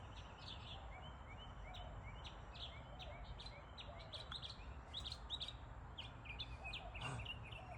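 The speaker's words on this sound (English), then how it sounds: "I was just sitting out here about to have coffee with my headache and listening to the birds." Birds chirp and call repeatedly outdoors in the early morning, short bright notes scattered over a low steady background hum, fairly distant and faint.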